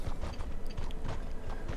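Horse hooves clip-clop along the coast in the online game Mortal Online, a quick steady rhythm of soft thuds mixed with faint creaking, moderately close with no talk.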